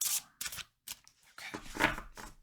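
Tarot cards are shuffled close up in short papery bursts, a few quick riffling rustles separated by brief pauses, quiet and alone.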